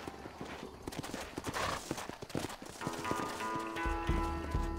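Horse hooves clip-clop in the Red Dead Redemption video game on PS5, a string of sharp irregular hoofbeats close by, followed by a brief whinny and rising background game sound.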